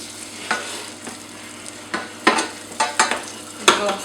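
Butter dropped into hot caramel for a mousse cake, sizzling close up amid repeated sharp utensil scrapes and stirring strokes in an irregular rhythm, no talking.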